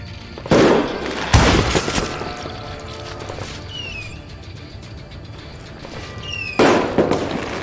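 Gunshots in the Wild West shooter game Call of Juarez: three sharp, loud reports spaced a few seconds apart, the first two close together and the last one alone, with faint game ambience and ricochet-like tones between them.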